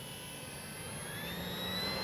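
An FMS RC model plane flies low with a steady whining engine drone that grows slightly louder toward the end, with no talk.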